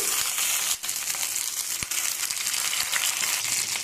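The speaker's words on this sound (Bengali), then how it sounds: "আমি একটু এপাশ ওপাশ করে ভেজে নেব" Vegetables frying in hot mustard oil in a pan give a steady, close crackling sizzle that runs continuously, broken by a couple of brief dips, with no talking.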